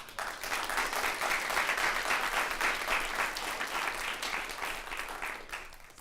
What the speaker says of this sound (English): So just give them a big round of applause.